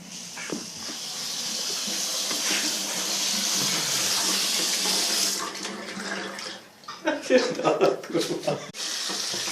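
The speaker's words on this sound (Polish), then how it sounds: "myję kasztana" Tap water runs steadily into a kitchen sink as chestnuts are washed before cooking, a continuous hissing stream with clattering splashes and handling noises near the end.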